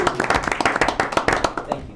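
Several people clap together at a small-town board of trustees meeting in Silt, Colorado, giving a quick, uneven patter of hands that stays close and fairly loud for about two seconds.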